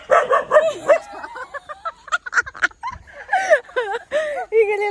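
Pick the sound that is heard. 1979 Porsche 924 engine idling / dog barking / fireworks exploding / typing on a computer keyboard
dog barking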